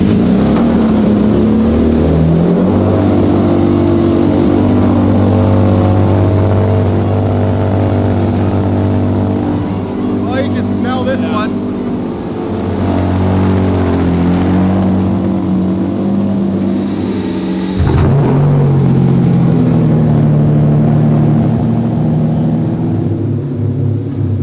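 Two vintage Lamborghini V12s, an 1988 Countach Quattrovalvole and a Diablo Roadster, rumble loudly and close, with steady idling and rising revs, a sharp blip around the middle and a deep continuous growl throughout.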